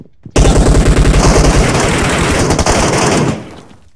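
Sustained automatic gunfire in PUBG Mobile, a loud rapid burst of shots rattling for about three seconds before cutting off abruptly.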